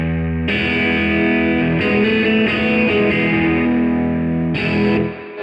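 Overdriven electric guitar through a Revival Drive with slapback echo from an Echo Plexi rings out in sustained chords and notes, loud and up front, with a short repeat trailing each attack and no voices.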